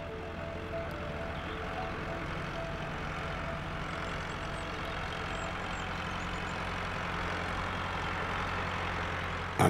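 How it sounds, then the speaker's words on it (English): A tractor engine runs steadily among fields and meadows in Germany's Harz region, a continuous low rumbling drone that stays even throughout with no voices. "Unnoticed and apparently unimpressed by the noise of a tractor"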